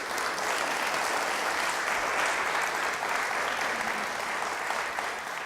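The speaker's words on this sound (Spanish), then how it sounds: "Denle un aplauso, Señor, por eso." Steady applause from a church congregation during a Spanish-language sermon, sustained and even throughout, with no pauses.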